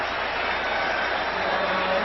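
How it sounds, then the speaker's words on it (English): Stadium crowd at a 1994 NFL game between the Eagles and Bears gives steady, distant applause, a broad wash of clapping and crowd noise heard through a broadcast feed. "The Eagle fans are applauding the Bears in attempting to run the football"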